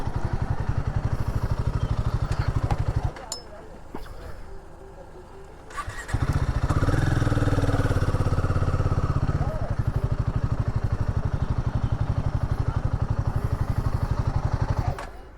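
Motorcycle engine throbbing with a steady, loud low thump at close range, briefly easing off for a few seconds before picking back up and running on through the rest, with someone speaking over it.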